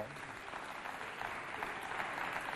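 Audience at a children's holiday game show clapping steadily for the contestants from two youth foundations, a dense, sustained wash of applause at moderate level with faint crowd murmur.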